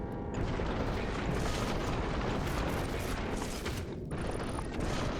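Laser turrets on a Factorio space platform fire against incoming asteroids in a dense, continuous crackle of bursts and booms, loud and unbroken with a brief dip near the end.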